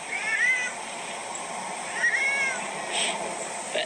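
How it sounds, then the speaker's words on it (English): A sweet cat gives a couple of clear, mid-pitched meows, one near the start and another about two seconds later, over a quiet indoor background. "Really sweet cat."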